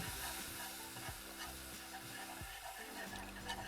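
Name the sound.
whisking milk into a roux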